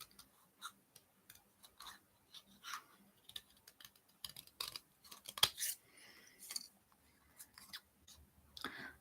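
Quiet, irregular snips and crisp cuts of scissors through card, short bursts with brief pauses, close by and without talk.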